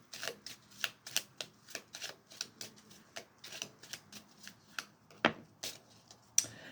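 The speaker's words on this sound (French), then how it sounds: "J'aimerais clore par une carte qui symbolise tes énergies actuelles, Sylvie." Tarot cards shuffled by hand during a reading, a steady run of quick crisp riffling snaps with a sharper card slap near the end, close and fairly quiet with no talking.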